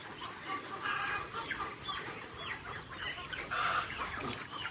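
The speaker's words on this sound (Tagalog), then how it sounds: "Yan si Rob, pinapakain niya na yung mga sisiw" Young chicks cluck and cheep softly while being fed on a small farm, a faint, busy chatter of many birds heard at moderate distance with no talking.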